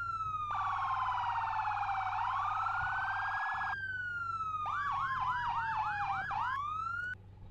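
Roblox police vehicle siren cycles through modes: a slow rising and falling wail, then a rapid yelp, ending in a short priority burst, loud and continuous over a low engine hum, with no talking.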